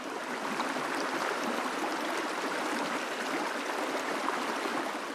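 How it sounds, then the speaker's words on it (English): A river flows past a bank in a steady, broad rush of water with fine bubbling detail, recorded close and continuous through a Sennheiser MKE 400 on-camera microphone. "point it at the river and see how it sounds"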